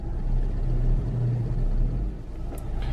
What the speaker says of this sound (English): Can you hear me revving?